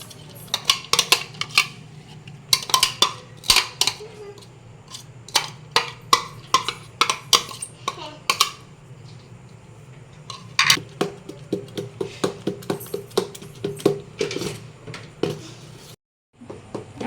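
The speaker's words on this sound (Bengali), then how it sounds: "এবার আমি এর মধ্যে সব সবজিগুলো মিক্সড করে দেবো" Vegetables being tossed and mixed in a pan for oil-free semolina chilla, with a busy run of sharp utensil clatters and scrapes against metal, close and loud, briefly pausing before the end.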